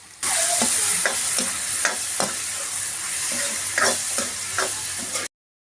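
Capsicum masala for a bell pepper thokku sizzles steadily as it fries in a kadai, with intermittent spatula scrapes and stirring knocks over the continuous hiss.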